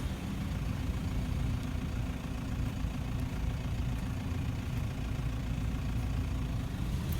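A Toyota Prado V6 idles steadily, a low, even rumble that carries on unbroken and fairly close, with no voices over it.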